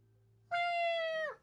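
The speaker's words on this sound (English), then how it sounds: "Oh, it was a kitty! It was a kitty!" A single clear cat meow from the video game Phoenix Wright: Ace Attorney – Justice for All, drawn out for nearly a second and trailing off at the end.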